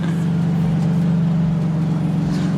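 Boosted Infiniti G35 idling with a deep, steady engine drone and slight rev swells, close and loud, no talk.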